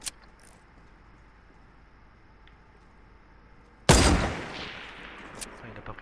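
A loud burst of gunfire in a battle-royale-style video game erupts abruptly after several quiet seconds, then decays with ringing, scattered after-sounds.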